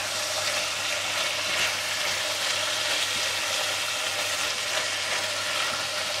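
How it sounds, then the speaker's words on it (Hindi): Minced meat (keema) frying with finely chopped carrot and capsicum in a pan gives a steady, close hissing sizzle with faint scraping of stirring, continuous and without talk. "दो तीन मिनट इसी तरह फ्राई करूँगी।"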